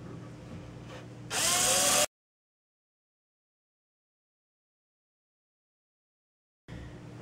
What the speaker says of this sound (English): drilling a hole for the power wires and sensor to go through, I've got two holes marked here. I'll put a pilot hole